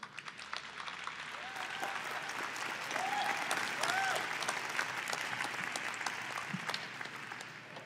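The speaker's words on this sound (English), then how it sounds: "Give him a clap there." Sustained audience applause at an evening concert, a dense wash of many hands clapping steadily from a moderate distance, swelling slightly toward the middle and holding for several seconds with a few whistles or voices faintly over it.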